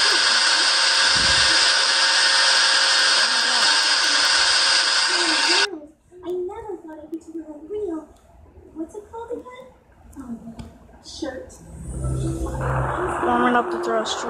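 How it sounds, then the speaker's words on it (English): Rocket thrusters in the Spaceflight Simulator game roar steadily and loudly for about six seconds, then cut off abruptly, after which a person talks over faint background sounds. "Warming up the thrusters."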